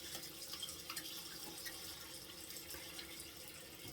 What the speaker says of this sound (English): to wash the cleansing balm off, I'm using the DHC olive oil soap